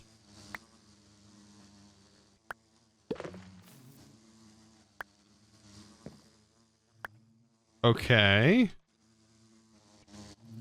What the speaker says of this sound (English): Let's place this bee, and I'll place the glowing bee.